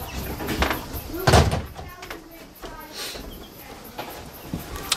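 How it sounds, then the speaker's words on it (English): A house door closing at home, one loud solid thud early on amid quieter room noise and a few faint knocks. "I'm just going to close that house door"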